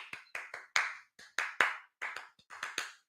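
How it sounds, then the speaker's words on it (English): Sharp, close hand claps in a loose, uneven rhythm, roughly a dozen distinct claps in quick bursts with brief gaps, and no voices over them. "Everybody, clap your hands."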